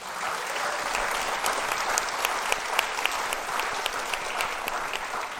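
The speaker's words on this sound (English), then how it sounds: "let's have a round of applause for our We the People audience" A podcast audience at the National Constitution Center claps steadily and enthusiastically, a dense wash of applause with a few sharper individual claps standing out, at moderate distance.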